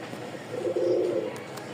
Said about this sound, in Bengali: বড় সাইজের রাজশাহী গিরিবাজ